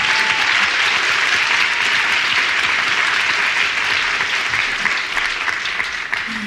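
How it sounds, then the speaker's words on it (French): A theatre audience applauds a stand-up comedy show with a dense, sustained wash of clapping that holds steady throughout and thins slightly toward the end. "Faut applaudir pendant ce temps-là si vous faites kiffer."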